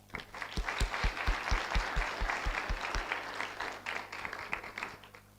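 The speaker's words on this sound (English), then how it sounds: "let's give our presenters one more round of applause" Conference audience applauding presenters at an international One Health gathering, a steady wash of clapping for about five seconds with a few sharp, distinct claps standing out early, then tapering slightly toward the end.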